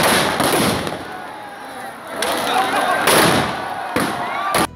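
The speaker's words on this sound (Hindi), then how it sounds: "रंगारंग आतिशबाजी के साथ 51 फीट ऊंचे रावण का दहन किया गया" Fireworks burst during the burning of a 51-foot Ravan effigy at a Dussehra celebration on Pola Ground in Chhindwara, a run of crackling booms and sharp bangs in quick succession with crowd noise beneath.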